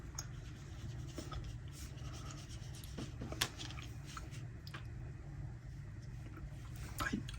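A Caran d'Ache Neocolor II brown water-soluble crayon is worked over paper with a water brush pen, making a steady soft scratchy scrubbing close by, with small bumps and a slightly louder stroke near the end.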